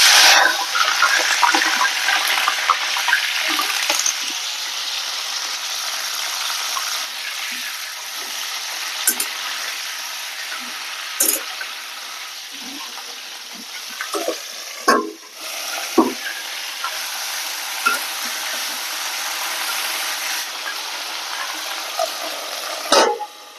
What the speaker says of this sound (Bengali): তেলটা গরম হয়ে গেছে আমি এখন ফুলকপিগুলো দিচ্ছি